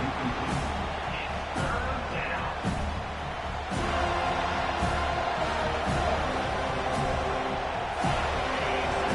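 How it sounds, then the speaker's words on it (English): Stadium crowd at an American football game roaring on a third-down defensive stand, a dense, sustained wall of cheering and noise with a few thumps that stays loud throughout. "Decibels rising as the crowd gets behind this defense on third down"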